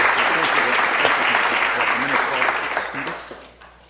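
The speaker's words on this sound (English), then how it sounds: "So let's give him a big round of applause." A council chamber crowd claps steadily at a city council meeting in honour of Sal Tinajero, a dense, loud wash of applause that tapers off toward the end with some voices mixed in.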